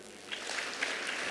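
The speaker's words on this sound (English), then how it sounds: "Kindly, now let's give her another clap." An audience at a women's health and wellness event claps steadily for about a second and a half, a dense, even patter of hands with no voices over it.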